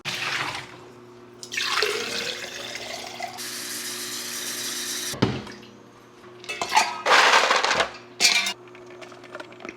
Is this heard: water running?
yes